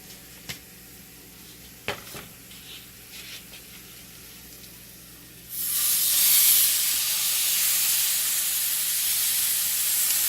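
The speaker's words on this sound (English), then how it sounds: "we're going to go ahead and put that steak in." Steak hits a hot pan with onions, and a loud, steady sizzle bursts up and holds after a few quiet clinks and taps, with no voices.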